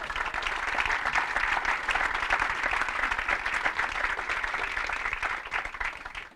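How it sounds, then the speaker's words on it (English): A crowd at a 20th anniversary celebration applauds, dense steady clapping at a sustained level for several seconds before tapering slightly at the end. "So let's give them a round of applause."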